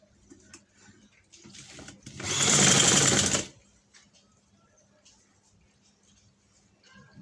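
A sewing machine stitches fabric in one short, fast burst of rapid needle whirring, close and loud, between stretches of quiet handling noise while someone talks before and after.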